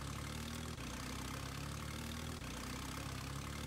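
A tractor engine in Farming Simulator 20 pulling a fully loaded trolley drones steadily and loudly at a low, even pitch, with two brief dips in an otherwise constant rumble.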